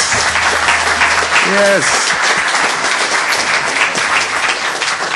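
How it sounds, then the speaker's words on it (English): Loud, sustained audience applause for startup presenters, dense clapping throughout, with a short spoken word early on. "Can we have a round of applause for these guys?"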